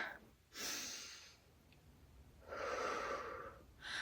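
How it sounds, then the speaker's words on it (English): Deep breaths drawn in and let out during a rest between sets of a shoulder workout: two long, close, airy exhales with a quieter inhale between and another starting at the end, no talking. "Take a couple deep breaths just in and out."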